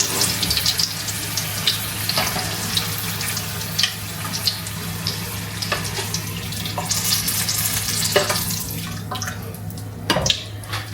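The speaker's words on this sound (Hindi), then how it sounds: "बस इनको हल्का सा ऐसे ऑयल में से गुजारना है और निकाल देना है।" Vada pav green chillies briefly passed through hot oil, a steady crackling sizzle with scattered pops and bubbling, close and fairly loud, ending in a sharper burst of spitting near the end.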